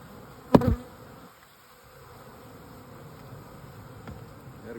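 Honey bees hum around an open, established hive, a steady low drone that stays close and continuous, broken at the start by one short nearby knock.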